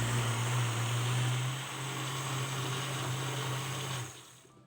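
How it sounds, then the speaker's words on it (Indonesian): A kitchen blender whirs loud and steady as it purees yellow sweet potato with coconut milk, sugar and salt, its motor pitch shifting slightly before cutting off near the end. "Kemudian tutup dan blender hingga tercampur halus."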